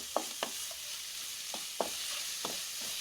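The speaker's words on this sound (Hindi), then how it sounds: "इसको हम ऐसे ही 1 मिनट फ्राई करेंगे" Spice mix for Kashmiri radish chutney frying in a pan, with a steady soft sizzle broken by a handful of scattered sharp stirring scrapes and pops, close and fairly quiet.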